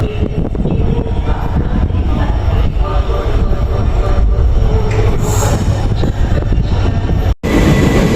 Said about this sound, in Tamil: நம்ம ட்ரெயின் வந்துருச்சு ஆல்மோஸ்ட்